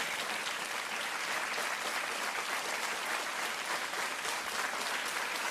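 A studio audience applauds during a quiz game show taking place on a television set, a dense and steady clapping that carries evenly throughout without a break and without any talking.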